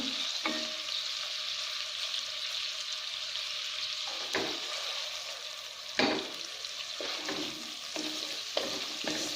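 Ground meat frying in a pan for a pure-meat spaghetti sauce, a constant close sizzle with several sharp scrapes and clacks of a spoon stirring through it, no talk.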